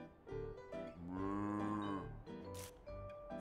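A cow moos loudly nearby, one long drawn-out low call with a few shorter lowing sounds around it.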